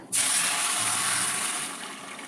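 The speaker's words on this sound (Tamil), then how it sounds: "இப்போது நமக்கு எந்த அளவு குழம்பு தேவையோ அந்த அளவு தண்ணி ஊற்றிக்கலாங்க." Water poured steadily into egg curry (kulambu) simmering in a pan, a loud close rushing gush that starts abruptly and tapers slightly over two seconds, with no talk.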